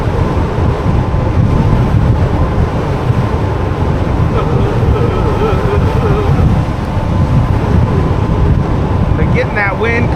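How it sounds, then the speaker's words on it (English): Wind gusts blow steadily near a beach in an offshore flow, a loud, constant low rumble buffeting the microphone throughout, with a faint voice briefly heard at the end. "Getting that wind because we're getting close down to the beach, so you get that offshore flow."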